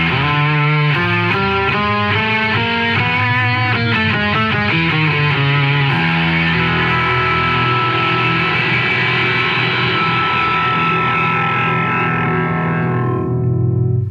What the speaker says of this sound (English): what you heard is what they call their Fallback multiband distortion